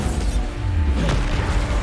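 The Bombarda explosion spell from the Hogwarts Legacy video game produces a short, loud, continuous blast with a heavy, rumbling low end that stays dense and steady for under two seconds.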